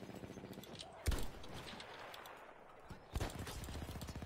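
Battlefield 1 gunfire crackles in a few sharp bursts, including two loud close shots and a sniper hit, amid a busy game soundscape.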